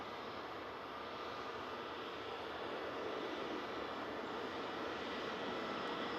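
Ryanair Boeing 737 jet taking off at Manchester Airport, a steady broad roar of engines at a distance that holds constant throughout without any voices.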